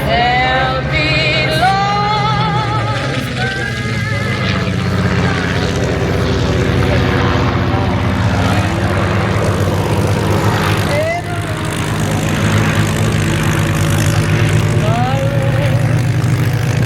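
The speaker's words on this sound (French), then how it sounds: "écoutons encore et encore le moteur Griffon" A Supermarine Spitfire or Seafire with a Rolls-Royce Griffon engine flies at the La Ferté-Alais airshow, its propeller drone loud and continuous beneath music and voices.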